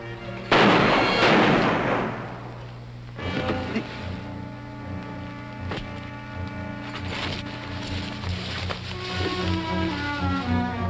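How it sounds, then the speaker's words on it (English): Gunfire in a 1941 Hopalong Cassidy western, Border Vigilantes: one loud, sharp blast near the start, followed by a sustained orchestral film score with further faint cracks beneath it. "Must have heard the shots."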